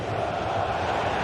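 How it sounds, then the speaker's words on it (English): A stadium crowd in a football video game match involving Real Madrid keeps up a continuous, loud roar and chant throughout. "Well, just listen to this crowd."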